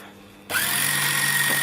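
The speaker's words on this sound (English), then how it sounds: "simply put your foot on the foot control and wind your bobbin" A Juki TL-2200 mini sewing machine starts winding a bobbin, kicking abruptly into a close, steady motor whir with a high whine that holds evenly after a quiet moment.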